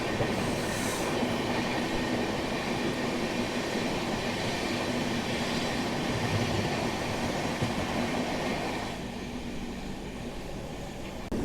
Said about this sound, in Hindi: और ये सामने से मोस्टली वेलिंगटन एक्सप्रेस आ रही है।